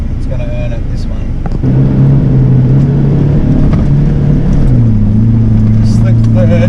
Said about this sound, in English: the Hilux is going to be working, it's going to earn it, this one.